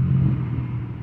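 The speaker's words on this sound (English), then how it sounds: "All right, we got to start the vehicle already. That's how you start the Nissan Altima Hybrid." A Nissan Altima Hybrid starts up after a jump start: a brief, low engine rumble close by that eases slightly after the first moment, with no voices.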